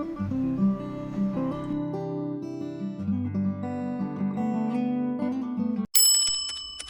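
A bicycle bell rings sharply near the end, a bright metallic ding that rings out and decays, right after calm, sustained melodic music cuts off abruptly.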